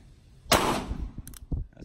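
A single sharp gunshot from a North American Arms Sheriff .22 Magnum mini revolver cracks loud and close, followed by a short ringing tail and a few faint clicks and thumps.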